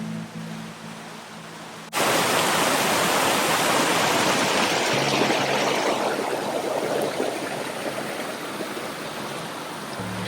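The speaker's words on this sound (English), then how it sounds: "the stream that is flowing down the mountain under the bridge or the road is heavy, and it is flowing pretty good" A heavy mountain stream swollen after rain rushes under a road, a loud, dense roar of flowing water that starts abruptly after a quiet opening and continues steadily close by.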